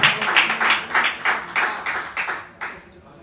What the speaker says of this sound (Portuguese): Quem está feliz com Cristo, dê uma salva de palmas nesse Deus que é poderoso